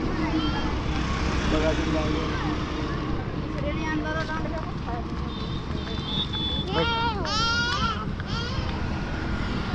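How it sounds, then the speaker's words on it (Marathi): A goat bleats in a busy Konkan street on the way to a fish market. It gives a couple of wavering cries midway, over steady traffic rumble, with people talking nearby. "अच्छा बकरी होती."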